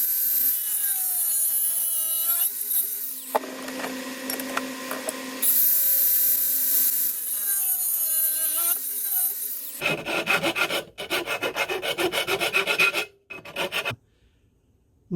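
A tool cuts the corners off a small metal rocket stove with steady, loud rasping strokes, which later become harsher, choppier bursts broken by brief pauses.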